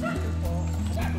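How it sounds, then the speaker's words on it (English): Hostile territorial dogs bark near a bridge on the way to a cave in Albay, with a few sharp barks and yips over a steady low engine-like hum, and a voice faintly in the mix. "We crossed path with some hostile dogs who seemed like they didn't like visitors."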